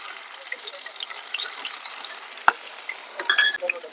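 Large onion frying in oil with green gram dal, urad dal, mustard seeds and cumin, a faint continuous sizzle with crackles, a sharp clink near the middle and scraping stirs toward the end.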